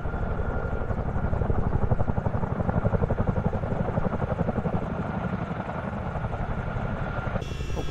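A Chinook tandem-rotor helicopter in Microsoft Flight Simulator, heard during a wildfire-fighting flight in Canada, gives a loud, steady engine drone with fast rhythmic rotor thumping throughout and no talking.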